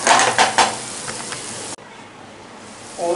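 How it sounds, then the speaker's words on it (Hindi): Masala for Punjabi-style masala bhindi is stirred and fried in a pan, with bright sizzling and a few scraping spoon strokes that cut off abruptly, leaving a quieter low simmer. "1 मिनट ये मसाला हम फ्राई कर लेते हैं"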